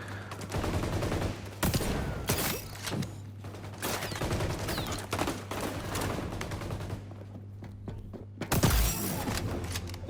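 Gunfire from the shooter video game XDefiant crackles in dense, rapid bursts almost nonstop over a low steady hum, with a brief louder blast near the end.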